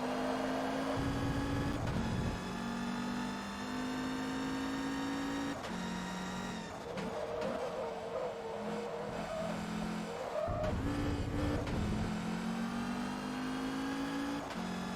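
A race car engine in Forza Motorsport 2 drones loudly and continuously, with its pitch climbing and dropping through several gear changes and tire squeal breaking in between shifts.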